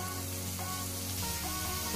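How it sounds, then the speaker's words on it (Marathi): Chickpeas sizzle steadily as they fry in oil with a little salt, a dense, continuous crackle that stays close and even throughout, with no voices. "आता मस्त फ्राय करून घ्यायचं आपल्याला"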